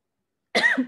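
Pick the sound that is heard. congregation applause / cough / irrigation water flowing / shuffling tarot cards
cough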